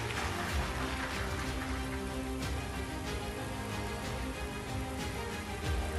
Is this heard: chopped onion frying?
no